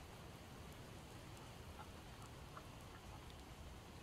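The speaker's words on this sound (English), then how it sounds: "I wish this rain would just stop." Steady rain falling in the zombie survival video game Project Zomboid, a constant dense hiss with scattered droplet ticks, alone and even in level throughout.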